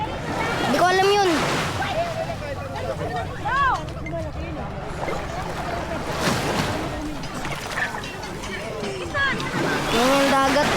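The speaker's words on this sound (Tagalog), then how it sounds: "Yan yung dagat, oh." Waves washing and sloshing on the shore at a Pangasinan beach, a steady close surf bed under children's and adults' chatter and calls.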